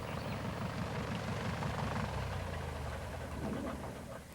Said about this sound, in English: The plane is bringing in fresh supplies